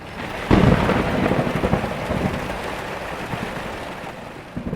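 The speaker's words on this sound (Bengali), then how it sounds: "হঠাৎ জোরে জোরে ঝড় বৃষ্টি শুরু হয়" Cartoon sound effect of a thunderstorm with heavy rain, opening with a loud thunder crack, then a continuous dense downpour with rumbling thunder running steadily to the end.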